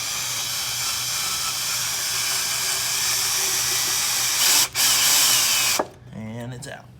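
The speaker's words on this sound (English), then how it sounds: "I'm going to drill this one out for you guys" A close electric drill whines steadily for several seconds, drilling out a rivet on a car's oil pan, briefly dips, then spins down and stops, leaving quieter background noise.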